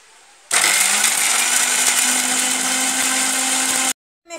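A mixer grinder blends egg resala masala with cashews, switching on abruptly and whirring loud and steady for about three and a half seconds before cutting off, the motor pitch shifting slightly midway.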